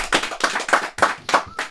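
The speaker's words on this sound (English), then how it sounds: "Let's get a round of applause for that." A small audience gives a round of applause: distinct bursts of hand clapping in an uneven rhythm, fairly close, with several separate claps over under two seconds and no speech.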